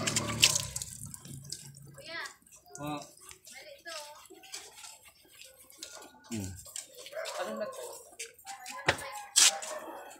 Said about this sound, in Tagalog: Buhusan natin tubig.